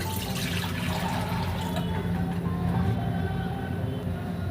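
Water poured into a kadai on a gas stove while cooking a taro, potato and prawn curry, a steady continuous splashing rush that runs the whole time at a moderate level.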